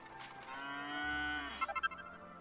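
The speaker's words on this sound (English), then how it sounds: "Cow." A single drawn-out cow moo from Dragon Quest 8, fairly quiet and alone, holding a long tone before wobbling and trailing off.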